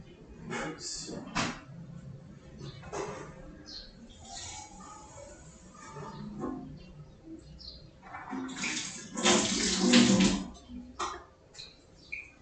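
Tap water running while someone fills a glass indoors, a few seconds of steady rushing toward the end, mixed with handling clatter and faint murmuring.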